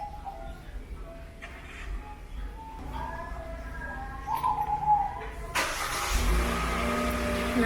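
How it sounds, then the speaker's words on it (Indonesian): Hyundai Creta car engine starting up after failed attempts, a sudden broadband surge of engine noise near the end, loud and close, following quieter background with faint voices. "Nah akhirnya nyala juga mobilnya."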